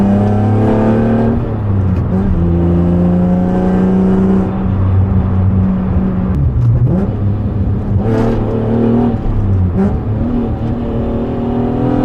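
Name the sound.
tuned Acura TL Type S car driving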